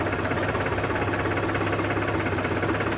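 A tractor engine chugs at a constant rate during a turn, a near, even knocking rumble with a vibrating edge and no voices.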